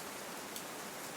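Heavy rain falls in a steady, faint hiss of dense drops, continuous and even over a very short stretch with no voices.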